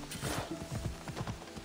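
Rapid hoof clip-clops of a trotting horse in Assassin's Creed Odyssey, a quick rhythmic series of soft, fairly quiet thuds.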